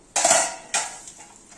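A freshly cooked farali handvo is eased from a pan onto a plate with two sharp metallic clinks of utensil against cookware, the second a little softer, followed by a brief scrape.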